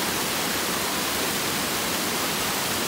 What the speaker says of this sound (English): these are waterfalls coming down to East B Hill Road